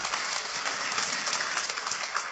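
Applause from a church congregation, steady dense clapping that fills the space evenly from start to finish with no voices over it.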